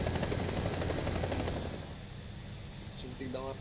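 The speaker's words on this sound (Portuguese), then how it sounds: "É um helicóptero, velho, olha lá." A helicopter in the video game War Thunder, heard during a night battle, thrums with steady rotor chop that fades partway through; someone talks briefly near the end.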